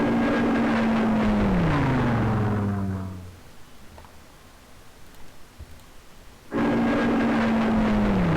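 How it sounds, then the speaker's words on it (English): A Lancaster bomber drones overhead in Civilization III, a loud engine tone that slides downward and fades away, then after a few seconds of near quiet the drone cuts back in abruptly at full strength, with no voices. "Whoa, that's a Lancaster."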